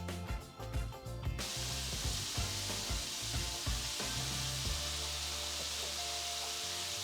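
Steady sizzling from nduja meatballs frying in a hot pan, a continuous crackling hiss with occasional knocks and clatter.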